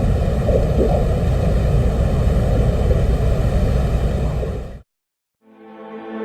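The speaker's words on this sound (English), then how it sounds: "On March the 5th, 1982, the Soviet Union landed a probe on the surface of Venus, and it was equipped with microphones." A recording from a Soviet probe on the surface of Venus in 1982 carries a steady, loud roar of broadband wind-like noise that cuts off abruptly, then a fainter tonal hum returns.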